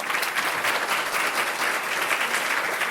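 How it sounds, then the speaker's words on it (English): A luncheon audience gives a round of applause for sponsoring members, a dense, even burst of clapping from a roomful of people, fairly loud and sustained without pause. "we'd like to give a round of applause to all of our members that helped sponsor"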